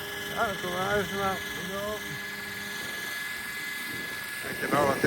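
A helicopter flies near an airfield at night, giving a steady engine whine and rotor drone throughout, with people talking over it close by.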